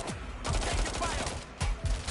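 Rapid bursts of gunfire in the video game Watch Dogs: Legion, dense, loud shots rattling through the whole clip with a couple of sharper volleys near the end, over game background noise.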